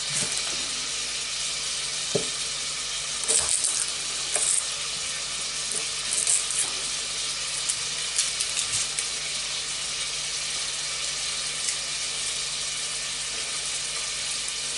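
Squirrel meat browning in a frying pan, giving a steady soft sizzle with a few faint clinks and knocks from the kitchen, and no talking.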